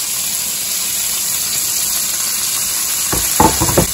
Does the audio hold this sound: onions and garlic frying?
yes